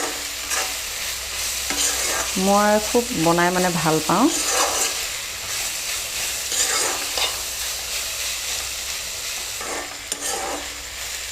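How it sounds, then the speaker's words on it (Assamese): Fiddlehead ferns and chickpeas fry and are stirred in a pan, with a steady sizzle and scraping stirs throughout, close and clear, while someone speaks briefly early on. "এয়া মই ঢেকীয়া বুট ভাজি আছোঁ এয়া চাক মই ভালদৰে লৰাই দিছোঁ"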